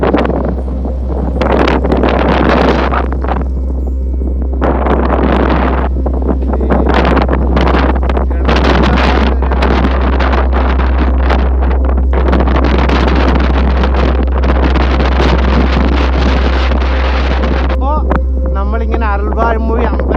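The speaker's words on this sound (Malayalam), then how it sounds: "ഇവിടെ ഇച്ചിരി ഇപ്പോൾ കാറ്റ് കുറച്ച് കുറഞ്ഞ് നിൽപ്പുണ്ട്" Strong wind buffets the microphone on a hilltop near Aralvaimozhi among towering windmills. The gusts roar loud and continuous over a deep, steady rumble.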